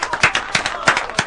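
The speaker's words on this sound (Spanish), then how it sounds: "para que también pida este aplauso" A studio audience at a sports talk program claps in a few distinct, rhythmic bursts, the sharp individual claps standing out rather than forming a full wash of applause.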